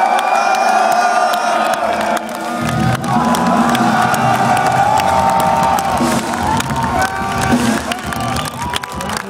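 Large festival crowd at a rock concert at Sweden Rock Festival 2012, cheering, whooping and shouting loudly and continuously, with amplified voices mixed into the roar.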